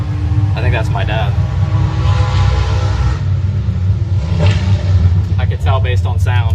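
A 1,000-horsepower drag racing car's engine rumbles steadily throughout, heard from inside a race car at a bracket racing event, with voices talking over the continuous low drone.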